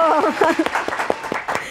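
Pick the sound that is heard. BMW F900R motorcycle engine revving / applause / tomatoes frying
applause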